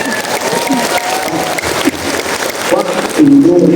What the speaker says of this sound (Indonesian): tepuk tangan untuk BMI Lombok